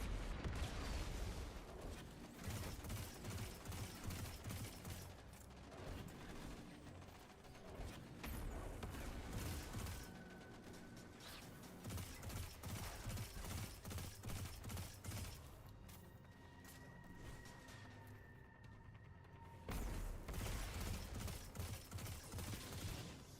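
Rockets firing in the video game Destiny 2 Lightfall, a steady rapid run of blasts and mechanical clanks that goes on for the whole stretch, with a short lull near the end.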